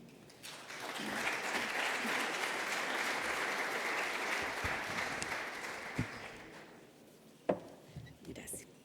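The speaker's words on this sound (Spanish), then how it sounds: "a la rectora Elisa Araya, a quien recibimos con un aplauso." An audience at a conference opening ceremony applauds to welcome a university rector to the stage, a steady sustained round of clapping that fades out, followed by a few isolated knocks and light handling sounds.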